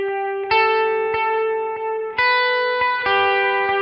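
An electric guitar plays a riff through a Paramount pedal set to dotted-eighth delay. Picked notes ring out in a rhythmic pattern with repeating echoes, and the tone is bright, slightly driven and sustained, with no talk.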